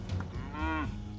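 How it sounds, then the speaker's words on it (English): Cattle in a herd sharing a pasture with a ram give a single drawn-out moo, moderately near and clear, with no one talking. "A herd of cattle and a ram."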